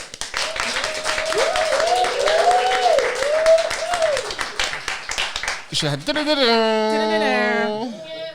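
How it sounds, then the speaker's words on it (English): A large studio audience at a birthday special of a talk show claps steadily and loudly for several seconds, then whoops and cheers take over near the end. "We have a massive audience, so can you give us a clap"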